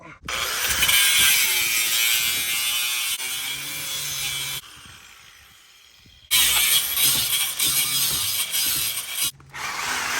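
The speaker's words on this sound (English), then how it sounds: "We have to get the Sawzall out." A Sawzall reciprocating saw cuts through metal on a 2JZ-swapped Jeep, a loud close rattling buzz running for several seconds, a brief pause, then a second burst of harsh chattering cutting.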